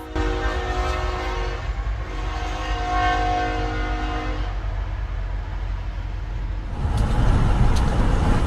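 A passing train collides with and tears apart the rear section of a truck: a loud, sustained horn blares over heavy rumbling for several seconds, then a surge of harsh broadband noise takes over near the end.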